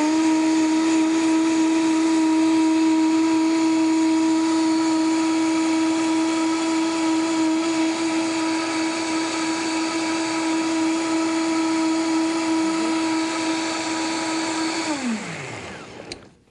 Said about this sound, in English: And at this point, you're going to blend it.